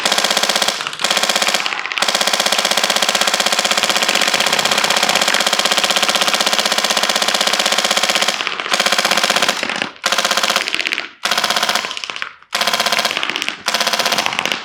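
Lightweight WCAS Customs airsoft M249 light machine gun firing, long loud sustained bursts of rapid mechanical chatter, then shorter broken bursts separated by brief silences toward the end.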